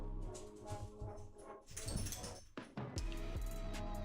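A dog whimpers and whines in short, uneven bursts against a steady low hum, fairly close and moderately loud.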